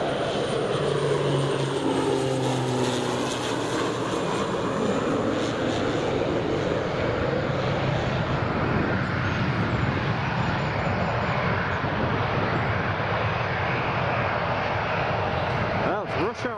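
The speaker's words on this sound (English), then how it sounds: "Right, here comes that King Air." A Beechcraft King Air turboprop at Newcastle Airport gives a loud, steady roar that fills the whole stretch, with a droning propeller tone clearest near the start.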